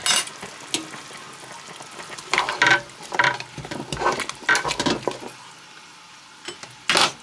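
Pork is stirred in a hot pot, with irregular scraping and squishing bursts over a steady sizzle of frying.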